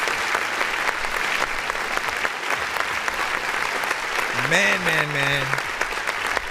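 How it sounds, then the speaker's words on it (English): An audience applauds steadily throughout, a dense wash of clapping with a voice briefly speaking over it near the end. "a round of applause."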